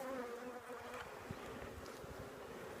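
Honey bees buzz around a hive during queen rearing as a continuous soft drone, close but fairly quiet, with individual wingbeats rising and fading within the steady hum.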